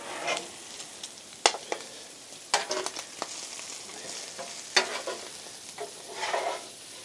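Bacon and red onions cook on a griddle with melting butter, giving a soft, steady sizzle broken by sharp scraping and clacking as a spatula stirs and turns them.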